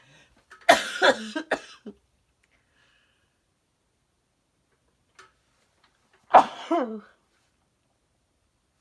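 Two sharp, explosive bursts a few seconds apart, with quiet between them, like a sneeze and a cough-like follow-up close to the mic.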